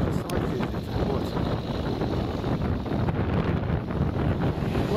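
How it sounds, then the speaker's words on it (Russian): Strong wind by a channel of the Ob River buffets the microphone in a constant, low roaring rumble, steady throughout with no voices. "А ветер такой дует, тут еще не слыхать будет."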